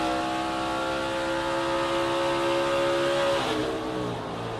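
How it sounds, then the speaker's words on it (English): A NASCAR Xfinity Series race car's engine at Portland runs at a loud, sustained high-rev whine with steady tones, then the pitch abruptly sags and fades as the engine blows up. "his engine does blow up right there"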